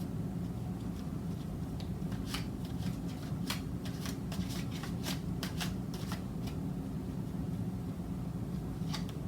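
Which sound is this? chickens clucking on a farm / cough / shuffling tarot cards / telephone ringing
shuffling tarot cards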